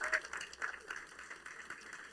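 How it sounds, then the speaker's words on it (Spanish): Church congregation clapping in praise, a brief patter of scattered applause, faint and fairly distant, fading toward the end. "Dale un aplauso al Señor."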